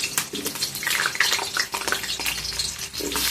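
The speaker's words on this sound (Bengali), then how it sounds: "আলুটা আগে লাল লাল করে ভেজে তুলে নেব।" Potatoes frying in hot oil in a home kitchen while being cooked for coconut khichuri, giving a steady crackling sizzle with bursts of spattering and some stirring, close and continuous throughout.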